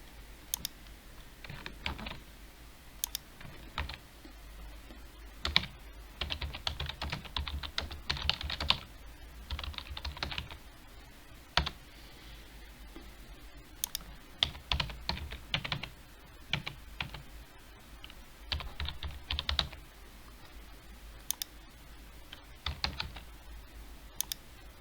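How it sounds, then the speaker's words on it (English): Someone types on a computer keyboard, entering a quiz question, with quick bursts of close, crisp keystrokes separated by short pauses throughout. No one speaks. "So we can type in one more question here."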